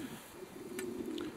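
A light blue check racing homing pigeon being handled, giving a soft, low, sustained coo close by, faint and alone, with a couple of brief tiny clicks.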